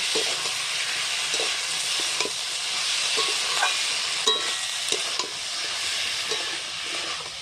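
Spice masala with chilli powder and green chillies being stirred and fried in a pan for a fish curry, giving a steady, close sizzle with occasional soft scrapes and no talking.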